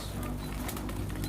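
Soft pigeon cooing and rustling with a faint flutter of wings, close by, amid steady outdoor background noise.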